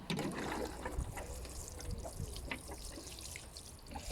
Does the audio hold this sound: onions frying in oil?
no